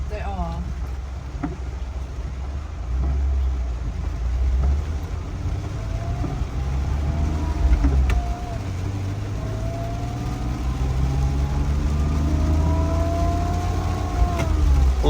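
A 1992 Mercedes W124 300E with manual gearbox revs up and pulls through the gears, pitch climbing in long sweeps over a steady low rumble, loud and close.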